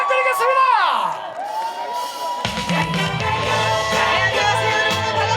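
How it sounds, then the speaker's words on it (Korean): A festival audience at a city-day celebration concert cheers and claps loudly as a singer is introduced, with whoops and shouts over ringing music. "박수 부탁드리겠습니다"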